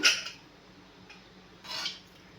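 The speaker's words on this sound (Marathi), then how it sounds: "कुकर आपण उघडूया" A pressure cooker holding cooked white peas is opened in a home kitchen: a close metallic clank of the lid at the start, then quiet, then a second softer clatter of metal.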